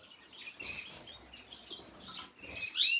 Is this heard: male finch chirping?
yes